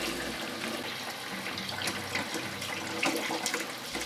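Vegetables for a Cambodian sour soup washed under running water and drained, a steady splashing tap flow with faint patter close by.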